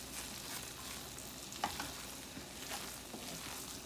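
Squash with cumin in a pot on the stove, stirred with soft scraping strokes over a faint sizzle, quiet and close, with a single sharper clink midway and no speech.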